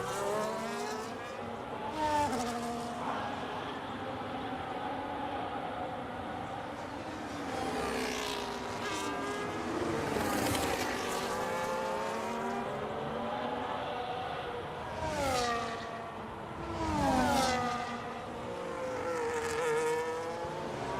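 F1 race cars, a McLaren and an Alpine among them, at Bahrain in F1 25, their high-pitched engines whining steadily with several louder surges as cars pass close by.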